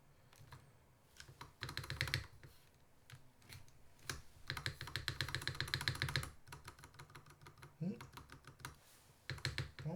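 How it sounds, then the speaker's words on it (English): Spacebar presses on a rebuilt classic TKL mechanical keyboard, a series of close, clacky thocks in bursts with a slight rattle, mixed with faster typing across the other keys. "Let's see how the spacebar sounds with the..."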